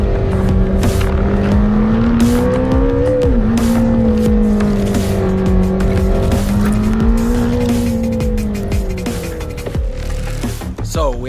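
Lamborghini Temerario sports car driven hard, a loud close engine rising and falling in pitch through gear changes, with tire noise and sharp clicks over a steady roar.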